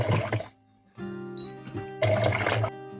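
Water fills the tank of a capsule coffee machine, heard as close, splashy gushes in two bursts with a steady humming tone between them.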